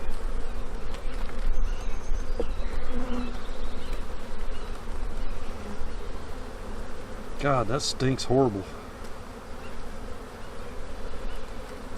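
Honeybees buzz steadily around an opened winter-killed hive infested with beetles, a constant close droning swarm, with a person speaking over it partway through.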